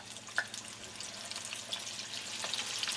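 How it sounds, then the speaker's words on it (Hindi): Chickpeas frying in reheated oil give a continuous soft crackling hiss with a few brief pops, fairly quiet and steady throughout, no speech present. "अब ऑयल हमने दोबारा से गर्म कर लिया है और उसके अंदर मैं ये सारे चने डाल दूँगी"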